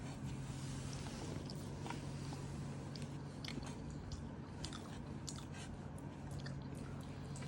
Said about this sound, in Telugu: ఇప్పుడు గ్రేవీ అయితే మిక్స్ చేసి తింటున్నాను.